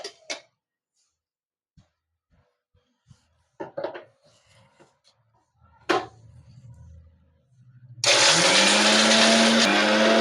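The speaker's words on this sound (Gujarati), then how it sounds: "આ બદામ છે, આ પિસ્તા છે, અને આ ખાંડ નાખશું આપણે. તો આપણે બધું પીસી લેશું હવે." After a few scattered taps and clinks, a mixer grinder roars to life at close range and grinds almonds, pistachios, cashews and sugar with a loud, steady whirring whine that holds to the end.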